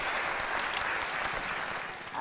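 Crowd applause in the video game Not for Broadcast, a dense, even wash of clapping that stays loud and steady throughout, dipping slightly just before the end.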